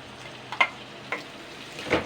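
Two large tomatoes are added to frying onions in a pan while cooking a spicy tilapia fish curry. Soft sizzling runs under a few short, close scrapes of stirring.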